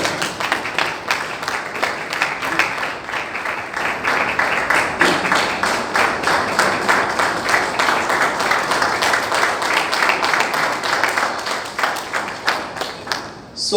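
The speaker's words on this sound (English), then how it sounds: "Round of applause for the MC." Toastmasters audience applauding the MC: sustained rhythmic clapping from a crowd, loud and close, holding steady for over ten seconds before tapering near the end.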